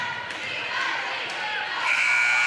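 A buzzer sounds at the end of the fourth quarter of a boys varsity high school basketball game in a gym, a steady tone rising over loud, constant crowd noise.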